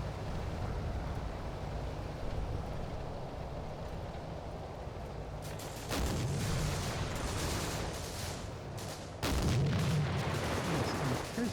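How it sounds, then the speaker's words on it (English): Artillery guns firing in the WWII wargame Combat Mission: Afrika Korps: a low, steady battlefield rumble broken by two loud, close booms a few seconds apart, with no voices. "That gun is now busy shooting at my gun over here."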